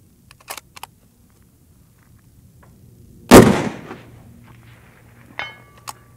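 A single loud rifle shot cracks out in an outdoor moving-target shooting lesson, with a brief decaying echo, preceded by faint clicks and followed by a couple of softer metallic taps.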